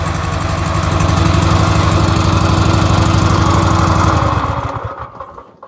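A Briggs & Stratton small engine misfiring on one cylinder runs loud and close with a steady rough drone, then cuts out and winds down in the final second or two.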